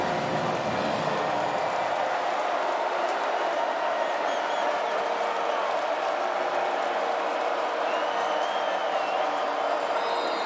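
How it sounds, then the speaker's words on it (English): College football crowd at a Troy Trojans vs. Clemson Tigers game, a steady, loud stadium roar of cheering and clapping that holds without a break throughout. "Now the crowd is into it."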